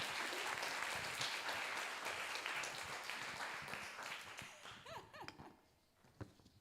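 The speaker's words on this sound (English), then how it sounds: "So big round of applause to Tara and the Austin Young Chamber." Audience applause at the 2023 Circular Austin Showcase, a dense burst of clapping that fades out over several seconds, with a few trailing claps and faint voices near the end.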